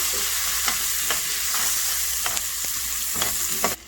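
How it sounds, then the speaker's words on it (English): Garlic, onions and thyme fry in a pan under a constant bright sizzle, with a spoon scraping and clicking against the pan every half second or so. "Now I'm gonna just add in my garlic, my onions, and my thyme. I'm gonna just stir that around,"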